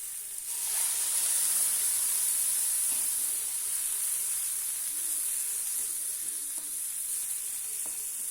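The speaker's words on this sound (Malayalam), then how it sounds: "ചൂടുവെള്ളം ചേർത്ത് കൊടുക്കാം." Hot water poured into a hot pan of spiced mixture gives a sudden loud steam hiss that holds steadily for several seconds, with faint stirring clicks and no talking.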